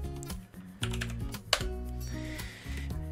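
Rapid, close clatter of keys as the ssh-keygen command is typed on a computer keyboard, with uneven bursts of keystrokes and a brief louder key strike midway.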